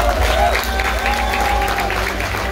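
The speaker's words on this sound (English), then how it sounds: "I love the clapping" A crowd claps and cheers at the Pana'ewa Stampede 2020 rodeo, with steady applause continuing for a couple of seconds under faint background voices.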